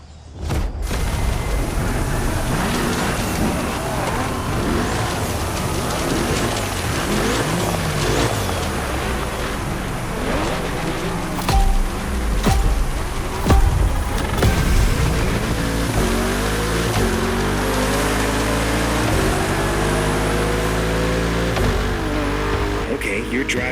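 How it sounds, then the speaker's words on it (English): A Mercedes C63 AMG engine drives steadily through The Crew Motorfest racing game, with loud continuous revving and gear-shift pitch sweeps, mixed with music and talking voices. "you're driving a C63 AMG"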